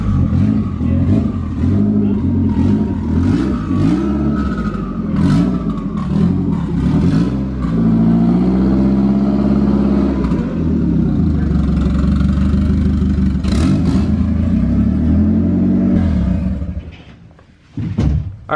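A 500-horsepower Hyundai Sonata engine revs hard on a dyno, a loud, sustained roar that climbs and falls in pitch for about seventeen seconds before cutting off abruptly near the end.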